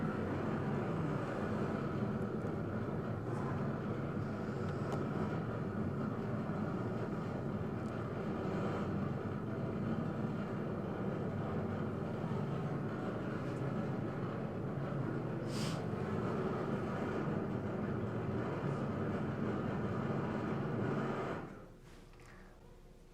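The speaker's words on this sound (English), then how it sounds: "it's being taken from a drone. Sorry for the noise." Steady broadband drone-motor whir from a camera drone filming a large street protest march in Guatemala City, loud and continuous, dropping off abruptly near the end.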